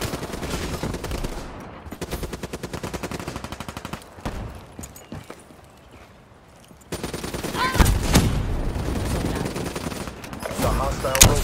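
Rapid automatic fire from a hostile sentry gun in Call of Duty: Black Ops III, sustained bursts, loud and close, alongside other battle noise, with a quiet stretch midway before firing resumes.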